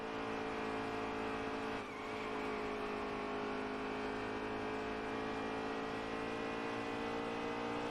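Race car engines in NASCAR Heat 3 hold a loud, steady high-revving drone at Kansas, with several cars running close together in a draft, no voices.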